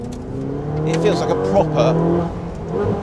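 Ferrari 458 Speciale V8 engine heard from inside the cabin, a loud steady drone with rising and falling pitch as the throttle varies, with a person talking over it.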